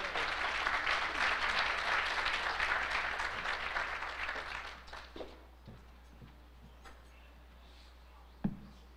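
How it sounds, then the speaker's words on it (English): Audience applause at a legislative wrap-up event, steady and full for several seconds, then thinning out into a few scattered claps and a final sharp clap. "Please, let's give Donna Wilson another round of applause"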